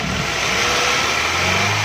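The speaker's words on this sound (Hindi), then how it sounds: "आपने एक्सीलेटर पर हाथ रखना है। रखने के बाद हल्की हल्की रेस देनी है।" A car engine, a Suzuki Cultus VXRi/XLI running on CNG with a misfire and pickup problem, revs lightly and steadily under gentle throttle, a continuous close mid-pitched hum with no talking.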